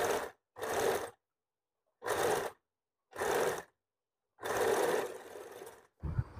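Sewing machine stitching the shoulder seam of a bra-cut blouse, running in five separate loud bursts of whirring with short silent pauses between them, no talking.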